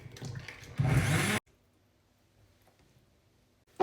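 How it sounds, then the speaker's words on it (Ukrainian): A blender purees cooked soup in a short, loud whirring burst that stops abruptly, followed by near silence and a faint clatter at the end. "супчик зварився, перебиваю його блендером"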